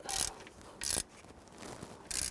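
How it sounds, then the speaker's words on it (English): Ratchet wrench tightening the rear bolt on a bracket of a 2006-2012 Toyota RAV4 3.5L V6 during serpentine belt component work: three short bursts of rapid, close ratcheting clicks separated by quiet pauses, with no talk. "we can come up here and tighten down the rear bolt to that bracket"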